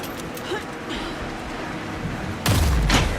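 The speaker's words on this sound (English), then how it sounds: "Anderson, pin him down with gunfire for me to get the light on him." In the video game Alan Wake 2, a rattle of distant gunfire crackles under a dull rumble, then a louder, closer burst of shots punches in near the end.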